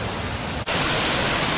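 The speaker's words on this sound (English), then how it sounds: "just literally 40 meters from waterfall 1 you get waterfall 2" Erawan Falls in Thailand roars as a steady, dense rush of falling water, loud and close, with a brief dip before the torrent resumes unbroken.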